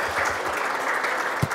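Audience applause at an Estonian book launch, a steady dense patter of clapping from a crowd filling the whole moment with no pauses.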